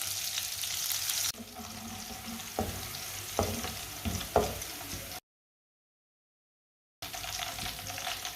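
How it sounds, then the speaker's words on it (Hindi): Finely chopped garlic and onion frying in ghee for a mixed vegetable dish, a soft continuous sizzle with a few stirring clatters, faint and close, broken by a brief silent gap before the sizzle resumes. "सब्ज लहसुन डाल लेंगे।"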